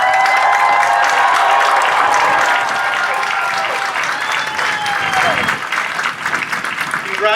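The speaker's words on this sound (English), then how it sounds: "Let's give this graduating class one final round of applause." Applause at a high school graduation ceremony in Clyde, Ohio, with a large crowd clapping loudly and continuously, joined by scattered cheers and whistles, easing slightly toward the end.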